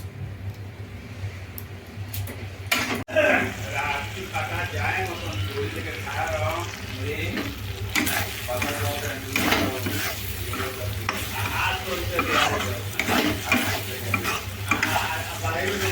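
Food fries in a pan while a utensil stirs it, giving a continuous sizzle with scraping strokes and a sharp clatter early on, as someone talks over the cooking.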